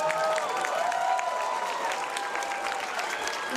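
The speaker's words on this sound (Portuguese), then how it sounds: "Uma salva de palmas, meu querido assistente de palco, R2D2." Audience applause at a Star Wars fan convention, steady clapping from a crowd at moderate distance with some cheering mixed in, a faint voice audible beneath it.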